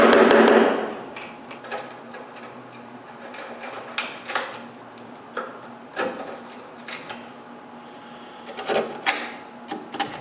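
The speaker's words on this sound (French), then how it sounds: "Je nettoie le tout là, avec des ciseaux à bois." Hand chisels pare and clean a wooden joint while building a hand-tool rack, giving a steady series of short, sharp knocks and scraping taps, fairly close and irregularly spaced, with no talking.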